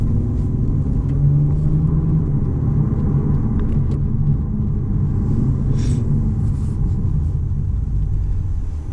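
A 2021 Toyota GR Supra with its 3.0L turbo engine drives along, giving a steady, loud low-frequency engine drone and road rumble that holds throughout, with faint higher whooshes that suggest turbo spool.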